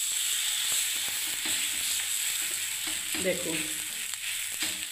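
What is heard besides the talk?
oats chilla frying in hot oil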